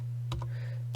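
A few quick keystrokes on a computer keyboard, faint clicks over a steady low hum.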